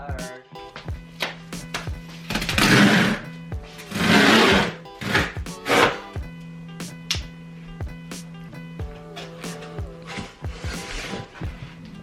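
A knife rips and scrapes through a heavy cardboard box in several loud bursts, with sharp taps and cuts between them, close up and without speech.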